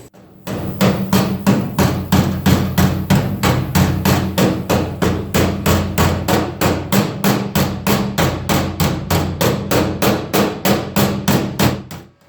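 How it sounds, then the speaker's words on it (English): Rapid, steady ball peen hammering to stretch the sheet metal of a rusty car door bottom, dozens of sharp ringing blows in an even rhythm, close and loud, with no talking. "The ball peen will actually round it out and make it and stretch it."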